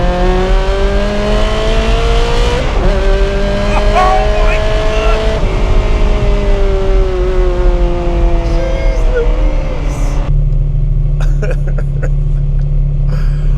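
A Ferrari 360 Modena engine revs hard and close, rising and falling harmonic whine with a strong low rumble, holding high for several seconds before dropping to a deep idle.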